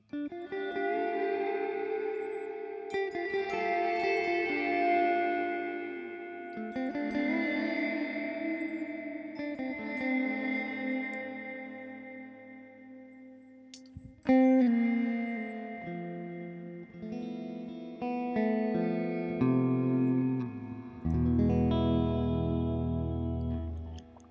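Guitar notes played through a Joyo Atmosphere reverb pedal with mix and decay turned way up, each chord smearing into a shimmering, sustained wash that overlaps the next.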